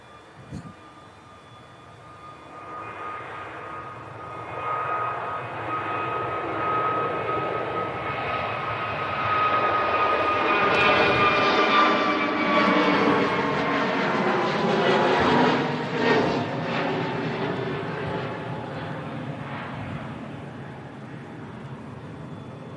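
A Qatar Airways A350 jet departs Manchester Airport, its engine roar building from a distant whine to a broad, loud rumble that peaks around the middle and slowly fades as it climbs away.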